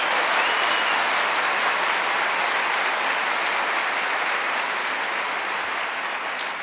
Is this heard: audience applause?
yes